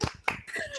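Audience clapping hands at a Friday church service, several short claps in a brief burst with some scattered taps.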